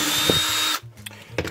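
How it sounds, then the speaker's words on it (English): A power drill bores a hole in the bottom of a cup holder made for a small boat or canoe. It whirs loudly for under a second, then stops abruptly and gives way to quiet handling noises. "So now we take our main cup holder and I'm going to drill a hole in the bottom."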